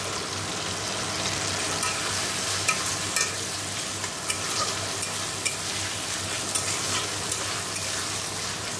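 Green peas frying in a pan give off a constant bright sizzle, with scattered clinks and scrapes as they are stirred, close and steady throughout.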